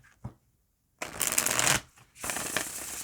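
A deck of Moon Oracle cards is shuffled up close in two quick riffling bursts separated by brief pauses, crisp and fairly quiet, with no talking.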